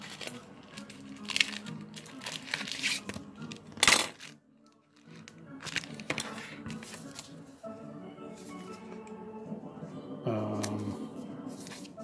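Tape being pulled and torn from a fully taped eBay parcel, heard as close crinkling, scratchy rips and handling noises with a couple of louder sharp bursts and brief quiet gaps.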